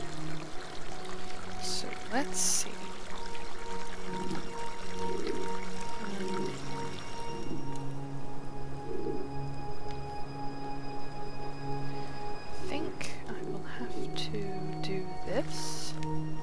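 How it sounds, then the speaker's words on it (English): Water drains with a steady rushing, pouring wash in the video game Munin, continuous throughout under sustained musical tones, with someone talking briefly over it. "I'm draining water, I have to cross."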